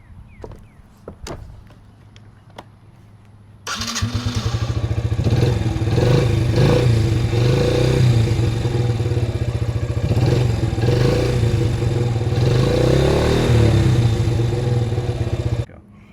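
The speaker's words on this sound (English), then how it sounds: "This is my Yamaha 50 Raptor. Let me start it up for you guys." A 2007 Yamaha Raptor 50 ATV engine starts after a few faint clicks and clunks, then idles and runs steadily close by with a loud, buzzing small-engine drone that holds for about twelve seconds before cutting off.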